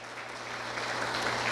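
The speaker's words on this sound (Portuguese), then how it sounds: "Você pode aplaudir o Senhor bem forte?" A church congregation applauds during a family worship service, the clapping building steadily and growing louder over a low constant hum.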